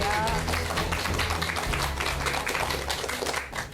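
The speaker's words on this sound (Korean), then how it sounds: "큰 박수 부탁드립니다" A studio audience claps loudly and steadily to welcome a guest onto the stage of a Korean lecture show, with a dense, continuous patter that fades slightly at the close.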